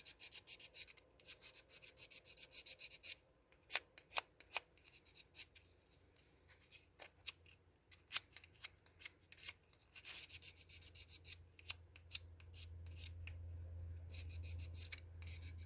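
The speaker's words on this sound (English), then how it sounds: "Yes, I'm sanding." Quiet sanding of UV resin: irregular rasping strokes of abrasive rubbing, some sharper scrapes, with a low hum building near the end.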